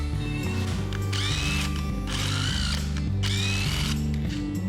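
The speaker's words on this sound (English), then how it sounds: "thread it, run it in and out with the impact a couple times with a little bit of oil on it" Impact wrench driving an oiled thread chaser into engine block bolt holes on a 5.3 LS rebuild, firing in three loud rattling bursts separated by short pauses, close up.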